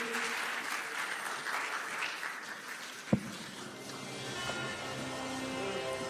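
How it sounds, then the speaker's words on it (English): Steady audience applause at a humanitarian awards ceremony, moderately loud and continuous, with a single sharp thump midway and faint musical tones emerging underneath toward the end. "Give her another round of applause."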